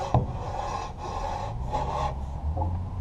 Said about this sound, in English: It's shaving that blade right now.